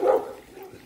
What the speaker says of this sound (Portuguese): O cachorro tá me perseguindo.